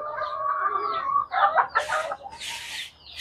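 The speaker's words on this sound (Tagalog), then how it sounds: "Ito po yung mga manok." Chickens cluck up close, a run of uneven clucks and short squawks, loud and alone, ending with a couple of harsher bursts.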